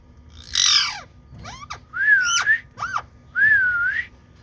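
A pet parrot named Mitthu gives a string of bright whistles, rising sweeps and sharp squawky calls while eating grain, close and loud with short pauses between calls.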